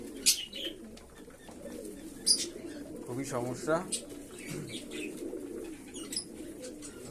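Several pigeons coo softly in low, throaty bursts amid occasional chirps, with a person speaking briefly over them.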